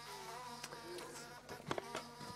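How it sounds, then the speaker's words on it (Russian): Honey bees buzz around queen cages in a queen bank, a close, wavering hum with shifting pitches and a few brief knocks, with no talking. "есть и пчелы в свободном перемещении"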